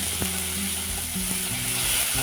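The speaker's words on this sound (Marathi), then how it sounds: "मीडियम साईजचा कांदा पातळ चिरून घालायचा आहे" Thinly sliced medium onion fries in a pan after ginger and garlic, giving a loud, steady close sizzle with faint stirring scrapes and no talking.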